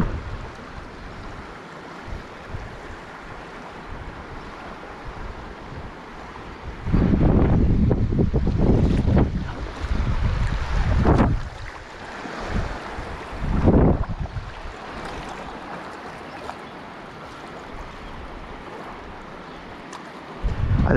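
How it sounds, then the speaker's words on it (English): Rushing water of river rapids on the Clarion River in the Allegheny National Forest, running high, roars in bursts against a windy background, swelling loudly for several seconds before easing back to a steady flow. "here we are back in some more rapids"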